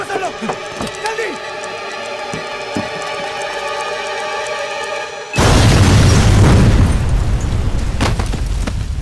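A bomb goes off beside a stopped car, a sudden loud broadband blast that cuts in midway through a tonal music-like background and keeps roaring as dense rumbling noise to the end.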